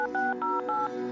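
Telephone keypad DTMF tones dial a number as a quick run of four clear, steady beeps of equal length, close and loud, with no voices.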